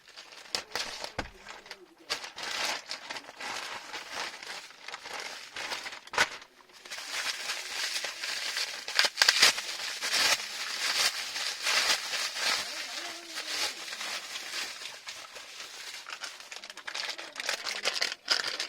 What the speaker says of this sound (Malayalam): അൺബോക്സ് ചെയ്യാം